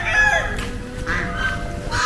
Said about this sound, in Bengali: প্রচুর হাঁস, মুরগি